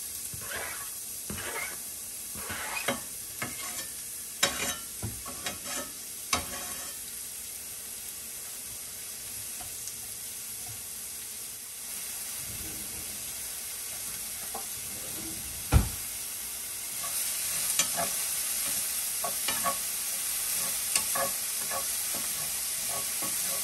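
Onions frying in a tablespoon of oil give a continuous close sizzle, with stirring scrapes and clatter throughout and one sharp knock partway through.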